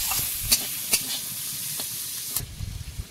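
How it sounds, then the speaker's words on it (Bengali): Onion and chili sizzling in a little oil in a wok, a steady crackling fry with occasional stirring scrapes, close and alone with no voices. "এখন কড়াইয়ের মধ্যে অল্প একটু তেল দিলাম, তেলের মধ্যে পেঁয়াজ আর লঙ্কাটা দিলাম।"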